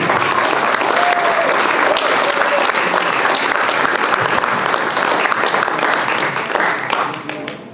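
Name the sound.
audience applause for a speaker's introduction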